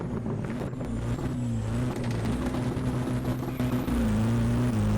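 A Roblox car engine drones steadily at close range, holding an even, continuous hum with slight pitch shifts as the vehicle cruises, with no talk over it.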